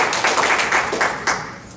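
A church congregation claps to welcome a guest speaker, a brief burst of many people clapping together, fairly close and full, fading slightly with a few distinct sharp claps near the end.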